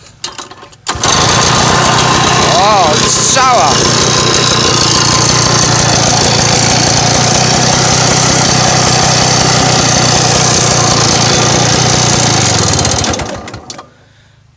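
A small homemade tractor engine cranks and catches, then runs at a steady, loud idle for about twelve seconds before shutting off.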